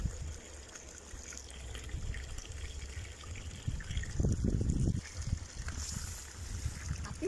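Water pours steadily over a small weir, a continuous close rushing and gurgling with a brief louder splashing surge near the middle; no voices.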